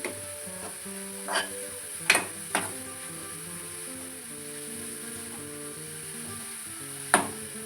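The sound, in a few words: grated carrot roasting with sweetener in a pan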